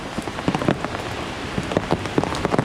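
Rain falls steadily on a city street, a dense hiss broken by frequent close drips and splashes, with no voices.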